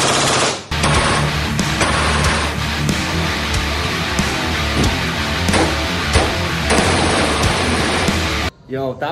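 Rapid, dense bursts of M4 rifle fire at an indoor shooting range fill nearly the whole stretch, loud and close with overlapping shots, briefly breaking off near the start and again just before the end.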